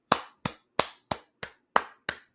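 Seven evenly spaced claps ring out from an applause button sound effect, each a crisp, sharp hit with a quick decay, loud and isolated with silence between them.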